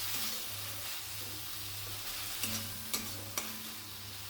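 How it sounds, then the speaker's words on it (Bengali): Spice paste of red chilli powder and ground coriander-cumin fried with a splash of water for katla fish do pyaza: a soft, even sizzle with a few sharp spoon knocks near the end, no voices. "সামান্য জল দিয়ে আবারও মশলাটা ভালোভাবে ভেজে নিচ্ছি"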